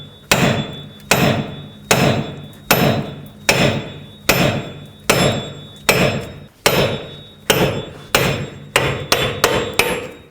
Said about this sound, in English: Now I'm going to use my hammer and just hammer right on here.